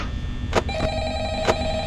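A telephone rings in the Five Nights at Freddy's video game, sounding as a pair of short electronic rings about a second apart over a steady hum of game ambience.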